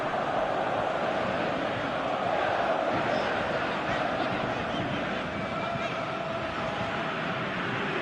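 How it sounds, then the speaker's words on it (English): A football stadium crowd in a video game gives a steady, broad roar of applause and cheering that holds throughout without breaks, with no clear commentary over it. "Crowd appreciates good football all round there."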